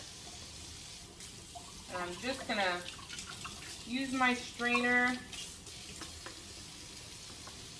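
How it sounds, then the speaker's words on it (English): Cold tap water runs into a strainer holding yucca flowers, a faint steady stream under a person's nearby talk. "I'm turning on the cold water"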